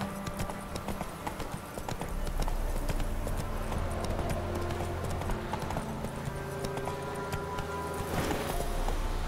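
Galloping horse hooves from The Witcher 3 video game, a steady, loud clip-clop rhythm running nearly the whole stretch over a low rumbling game soundscape, with no talking.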